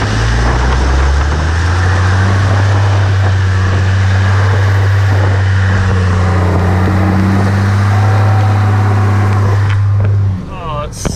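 A stock dually 5-speed 12-valve Cummins truck churns through mud in second gear, its diesel engine droning loud and steady at close range before easing off near the end.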